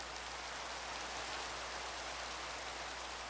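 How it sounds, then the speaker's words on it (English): Steady rain falling in the Minecraft video game, a dense, even hiss of broadband patter that holds constant throughout with no voices over it. "Looks like it's raining."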